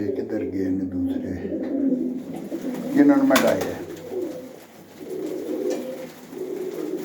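Pigeons coo in a loft with a pet keeper's favourite birds, low soft repeated calls running under a voice talking throughout, with a sharp brief clatter midway.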